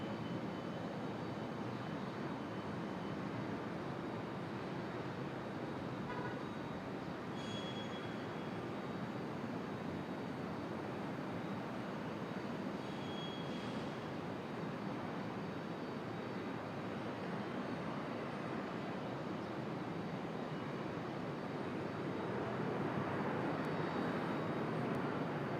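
An Air Canada CRJ regional jet at Raleigh-Durham International Airport gives off a steady broad engine roar lasting throughout, moderately distant, swelling slightly toward the end, with no voices.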